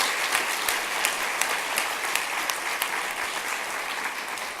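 Sustained applause from a gala audience at a Georgia Association of Black Women Attorneys dinner, a dense, steady patter of many hands clapping with occasional sharper claps standing out, continuing evenly throughout.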